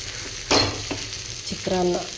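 Spiced tempered rice (chitranna) being stirred in a frying pan, with scraping and clinking of a utensil over a soft background sizzle, a few distinct strokes close by.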